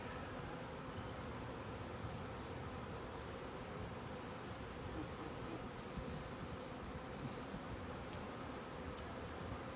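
Continuous droning hum of Italian honey bees buzzing around a newly installed backyard hive, steady and dense, with a few faint ticks.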